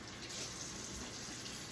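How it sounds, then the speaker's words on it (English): Tap water runs steadily over a food package being rinsed in a sink, a faint continuous hiss and splash with no talking. "I'm gonna rinse off the outside of the package"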